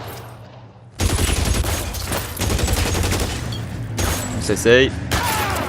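Machine gun fire in the video game L.A. Noire, a sustained burst of rapid shots after a brief quiet start, continuing in loud fusillades under talk.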